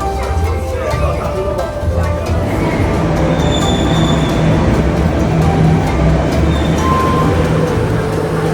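A metro train rumbles and screeches at a Beijing station, with wheel squeal and continuous rail noise loud throughout, and voices talking underneath.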